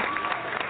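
A short, steady wash of audience applause, even and continuous, heard on its own.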